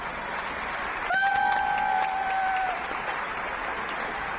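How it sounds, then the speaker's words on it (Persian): Studio audience on an Iranian TV couples' game show applauds steadily for a few seconds, the clapping dense and close, with a sustained two-note musical tone sounding over it midway. "تشویق کنید"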